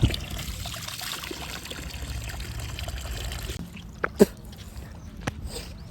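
Fresh water splashes and trickles during face washing, a steady close pouring wash that stops abruptly, followed by a few scattered small splashes and knocks.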